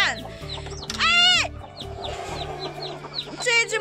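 A brooding hen clucks in short repeated calls up close, with a louder drawn-out squawk early on and other farmyard chicken sounds around, no talking.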